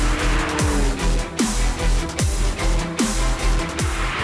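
A McLaren 600LT Spider driving on the Goodwood circuit: a loud, continuous engine roar close by, with repeated sharp dips in pitch like quick gearshifts.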